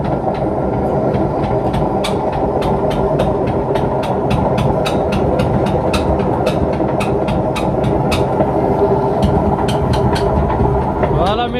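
Washing machine on a 1200 rpm spin cycle making a strange noise: a loud, steady low rumble with a rapid, regular clicking or knocking repeating throughout, like rail wheels clacking.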